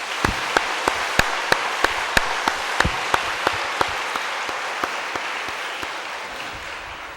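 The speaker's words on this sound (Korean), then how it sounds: "하나님께 영광의 박수를" A church congregation breaks into loud, dense applause at an anniversary service. One nearby clapper beats a steady rhythm over the crowd, and the sound slowly fades over several seconds.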